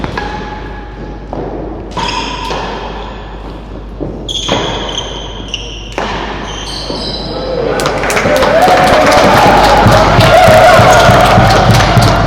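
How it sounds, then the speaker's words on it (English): At a professional real tennis doubles match, a series of sharp ball thumps and taps rings out in a quiet court, then the crowd swells into loud, sustained cheering and applause. "Crowd getting behind them."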